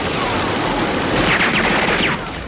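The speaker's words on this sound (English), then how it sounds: "He's firing." Rapid cannon fire from a fighter jet in the movie Top Gun, a dense, loud, continuous burst that swells near the end over a constant roar.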